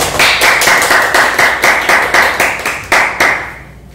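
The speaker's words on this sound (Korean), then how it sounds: "박수로 큰 환영 부탁드립니다." Rhythmic clapping from an audience at a Korean author talk and book event, a regular beat of roughly a dozen sharp, unison claps close by that stops abruptly.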